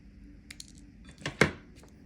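A cured UV resin dangle piece for a junk journal is cut, with a few faint ticks followed by a couple of sharp snips close by in a quiet room.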